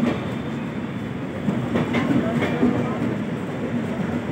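Passenger train 15010 Mailani–Gorakhpur rolling along the rails near Lucknow, a steady loud rumble with faint rhythmic clatter and a low hum throughout, close by, with no talk.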